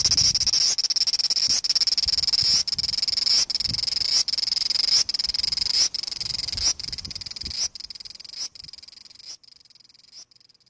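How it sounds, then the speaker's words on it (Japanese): A large brown cicada (aburazemi) calls with a loud, continuous sizzling drone broken into regular surges. It starts strong and slowly fades toward the end. "では続きまして、アブラゼミの鳴き声を流したいと思います。"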